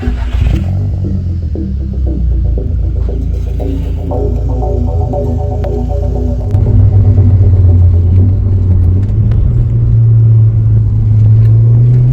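Mk1 Audi TT engine rumbling at a steady low drone while driving, a close in-cabin hum that swells slightly louder about halfway through, with no voices.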